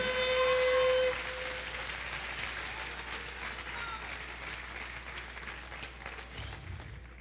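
Church congregation clapping during an evening Spanish-language service, a steady broad wash of applause lasting several seconds beneath a brief tone at the start.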